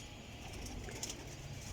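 Sialkoti pigeons coo softly in a steady low murmur, close by, with a few higher chirps mixed in and no talk.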